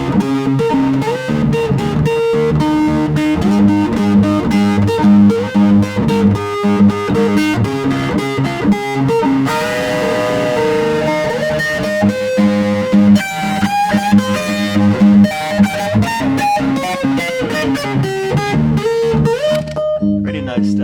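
Loud, heavily distorted electric guitar chords and riffs through a high-gain distortion pedal, thick and saturated, ringing continuously with shifting notes and no voices.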